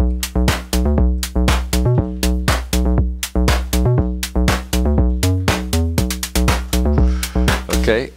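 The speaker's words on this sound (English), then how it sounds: "we have four tracks here, a kick, a snare, and a hat and a bass" A drum and bass loop playing in Cubase, built from kick, snare, hi-hat and bass tracks. Punchy, evenly repeating hits sit over a deep sustained bass line, loud and close, with no voices.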